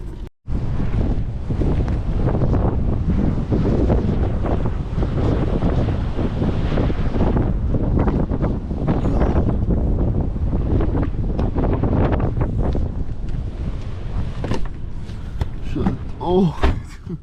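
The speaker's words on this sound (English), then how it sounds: "Wow, there's some serious wind out there." Strong wind of around 60 mph buffets a truck camper, a loud continuous roar with rumbling gusts and rattling against the shell; a voice speaks briefly near the end.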